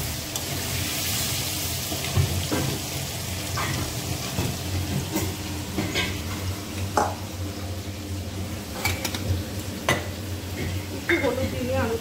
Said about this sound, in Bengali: আলুগুলো দেওয়া যাক, আলুটা ভেজে